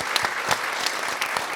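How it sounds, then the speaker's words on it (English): An audience at a festival book panel applauds its panellists in a brief, dense burst of steady clapping. "Just give a round of applause to our panellists today."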